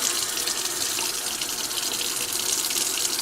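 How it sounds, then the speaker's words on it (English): Water running from a tap to fill an RV water heater system, a steady, close hiss of flowing water with no voices. "I'll just let that run, make sure everything fills up and all the air is out of the system and the water heater's full"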